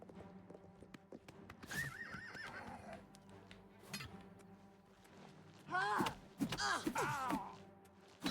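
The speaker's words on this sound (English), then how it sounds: "Get my horse." In the Oblivion video game, a horse whinnies twice, loud high neighs that rise and fall, with clip-clopping hooves and faint background game sounds between them.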